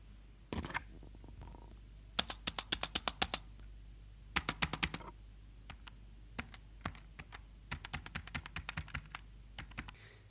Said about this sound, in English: It is a mechanical keyboard, so it is really tactile and has satisfying clicks,